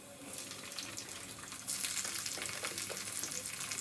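Chopped tomatoes roast and fry in a pan with curry leaves for tomato gojju, a soft, fairly quiet sizzle that grows slightly denser partway through, with faint stirring.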